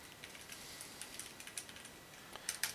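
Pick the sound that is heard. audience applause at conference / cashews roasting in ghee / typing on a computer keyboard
typing on a computer keyboard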